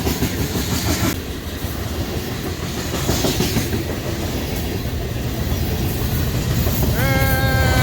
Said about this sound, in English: That is a lot of train, a lot of weight, a lot of grain